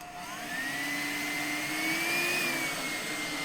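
A Karcher HV 1/1 Bp Cs battery-powered handheld vacuum cleaner runs on its eco setting at about 20% power, a steady close whirring hum with a high motor whine that slowly rises in pitch.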